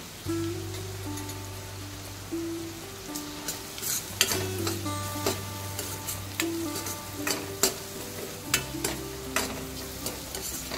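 Ridge gourd with chana dal stir-frying in a pan after turmeric and asafoetida go in, a steady sizzle under repeated scraping and stirring strokes of the spoon, close and continuous with no talk.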